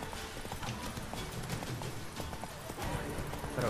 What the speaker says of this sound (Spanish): ¿Hacia dónde me está llevando el caballo?